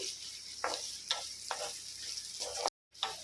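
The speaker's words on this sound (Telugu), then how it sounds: "బాగా కలుపుకొని వీటిని బ్రౌన్ కలర్ వచ్చే వరకు వేయించుకోవాలి" Onions fry with salt in a pan for chicken fry, giving a steady close sizzle broken by a few brief scrapes of stirring, with a short silent gap near the end.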